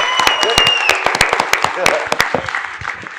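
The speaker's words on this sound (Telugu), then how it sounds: "ఒకసారి అందరూ భైరవ్కి గట్టిగా ఒక చప్పట్లు కొట్టండి మా కోసం" Scattered audience clapping at a media Q&A for the Telugu film Bhairavam, with sharp claps over a busy mix of voices and a high whistling tone, close and fairly loud.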